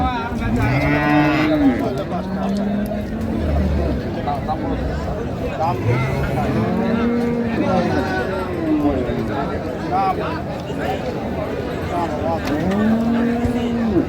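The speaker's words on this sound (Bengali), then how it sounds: "গাভী বাছুর আমরা দেখছিলাম এখানে" Cows and calves moo repeatedly at a busy village cattle market in Dinajpur, several long, loud lowing calls rising over steady crowd chatter and people talking nearby.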